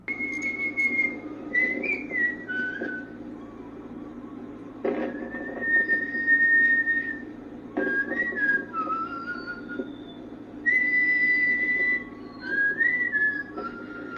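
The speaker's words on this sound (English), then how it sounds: "we're looking at Mark Salvados' installation at the lawn of the museum called Whistles" Mark Salvados' art installation Whistles, on the lawn of the UP Vargas Museum, gives off a series of clear, sustained whistle tones that rise and bend in pitch, repeating in separate phrases over a low steady hum.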